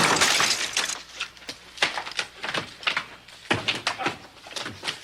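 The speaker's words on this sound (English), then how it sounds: "he smashes through the door" A door is smashed through in the Thriller film, with repeated loud bursts of shattering, crashing glass and splintering impacts coming in uneven waves, close and harsh, with no talking.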